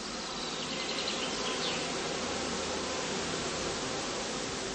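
Bees buzz around the heather skeps of a heathland apiary, a dense, even hum of many insects in flight that holds steady and fairly soft throughout, with no talk.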